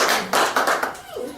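Close, loud congregation clapping in church: a brief run of sharp rhythmic hand claps that tapers off quickly.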